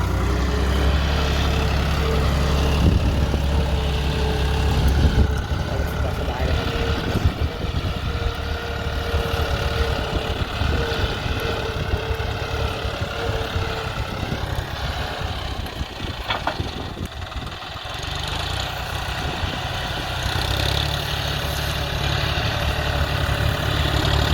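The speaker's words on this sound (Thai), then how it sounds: "มันจะไปเรื่อยๆ ครับจอนเดียครับ สไตล์ของจอนเดียครับ รอบเครื่องต่ำๆครับ" A John Deere 5040D tractor engine runs steadily at low revs while working a rice field, with a continuous close, loud low rumble throughout and no talk.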